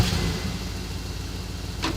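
An old armored truck engine in the video game Teardown runs with a steady low rumble after starting, close and even, with no talk.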